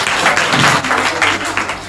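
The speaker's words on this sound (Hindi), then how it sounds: "एक बार जोरदार तालियां के साथ" Audience applause at a school Independence Day program in Faridabad, a loud steady wash of clapping from a crowd, with some voices mixed in underneath.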